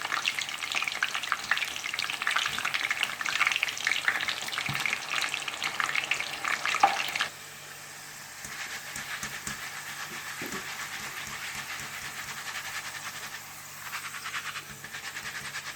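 Loud, dense sizzling of chana dal frying in hot oil until crisp, with occasional stirring scrapes; partway through the hiss drops to a softer, steady crackle.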